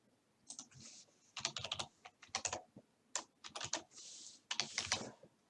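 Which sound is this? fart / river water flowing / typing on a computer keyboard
typing on a computer keyboard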